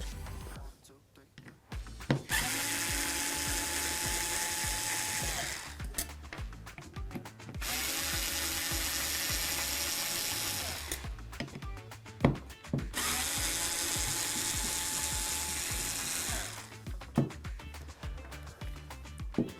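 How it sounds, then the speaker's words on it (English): A small electric screwdriver backs Torx screws out of a car ECU casing, whirring steadily in three separate runs of a few seconds each, with clicks and handling noises between them. "starting with our little electric screwdriver first and foremost. And we're just going to connect into our little Torx screws"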